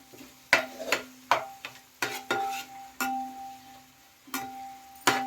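Curry leaves hit hot oil with ginger paste while a chicken biryani is prepared, giving a series of sharp crackling pops and scraping stirs in an irregular rhythm, close and clear, with no talking.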